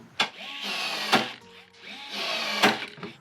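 A rivet tool fastens a bracket onto a Subaru: three sharp, close snaps spaced about a second apart, with a low mechanical hum between them.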